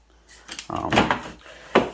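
A handmade false door for a Glowforge laser cutter being handled and fitted, with short wooden knocks, rubbing and clunks in quick succession.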